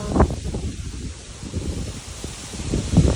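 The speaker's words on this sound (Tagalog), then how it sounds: "Ay, lakas ng hangin." Strong gusts of wind roar through rustling leaves in a backyard, a steady close-up buffeting with a few louder bursts near the start and end.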